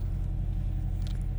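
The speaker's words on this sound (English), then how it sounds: "All right, we are off in this Ford Maverick Tremor." A 2026 Ford Maverick Tremor pickup truck pulls away with a steady, low engine rumble heard from inside the cab, continuous and moderately loud.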